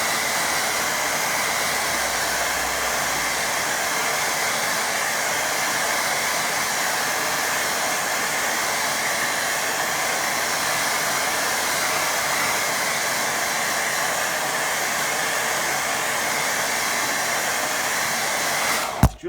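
A hair dryer drying a watercolour painting: a loud, steady close-up blowing whir that runs unbroken for about nineteen seconds and cuts off abruptly at the end.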